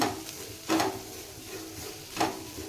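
Bitter gourd fries in a pan with a quiet, low sizzle, while a utensil scrapes and stirs it in two or three distinct strokes spaced across the moment.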